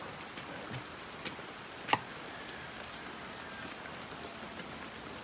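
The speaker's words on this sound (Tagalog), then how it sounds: "Tapos umuulan pa." Rain falls outside an open-air dirty kitchen on a farm in Sanchez Mira, Cagayan, a faint steady patter with occasional sharper drips landing at irregular intervals and no voices.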